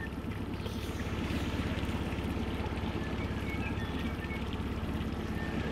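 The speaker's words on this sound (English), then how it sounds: "I wish I could make this boat go a bit slower." A small boat runs across open water toward an island, its motor giving a steady low drone under constant hull wash and wind noise, close and continuous with no talking.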